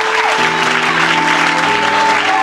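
Applause and clapping from a church congregation fill the room steadily and loudly, with a held tone sustained underneath throughout.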